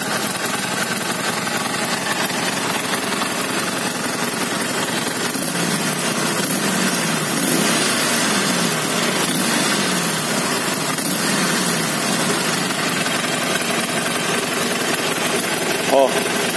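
A Harley-Davidson Iron 1200 motorcycle idles with its homologated Brazilian exhaust, giving a steady, subdued, close rumble that stays unbroken throughout with no revving.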